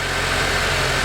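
A car engine idles steadily and loudly up close while air is bled from the coolant system during a heater repair, a constant low rumble with no talking.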